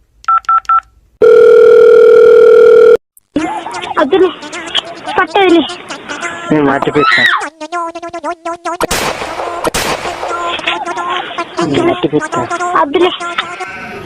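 A few short beeps, then a loud, steady telephone dial tone holds for about two seconds before cutting off as a call is placed. Lively talk and background sounds follow.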